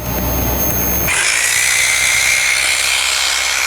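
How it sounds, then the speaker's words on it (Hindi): An electric drill machine runs on a home solar power setup during a load test, a loud, steady high whine that starts abruptly about a second in and holds continuously to the end. "ये ड्रिल मशीन भी हमारी काम कर रही है"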